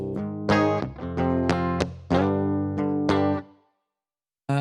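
Electric guitar played through a Vault heavy effects pedal with no other effects in the chain, giving a clean, flat, mono tone: several struck chords ring out and decay one after another, then fall silent before a final chord enters at the very end.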